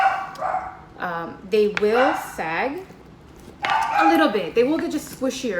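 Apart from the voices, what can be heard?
dogs barking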